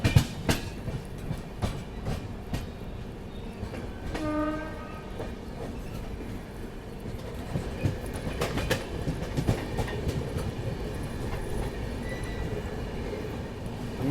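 Marudhar Express train rolling along the rails near Merta Road in Rajasthan, a steady close rumble with rhythmic clatter of wheels and a short two-tone horn blast early on.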